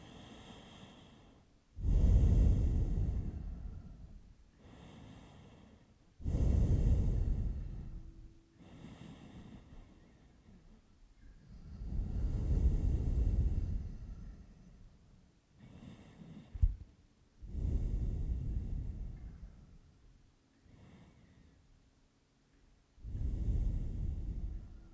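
Slow, deep breathing during a yoga relaxation pose, heard as long, breathy inhales and exhales at a steady, unhurried pace, close and fairly soft, with no talk.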